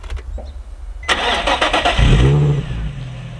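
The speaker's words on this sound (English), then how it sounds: "We'll get a cold startup, or not really a cold startup, a warm startup right here for you guys." An Acura TL Type S engine turns over on a warm start, the starter's quick whir catching into a loud, rough burst that settles into a steady nearby idle.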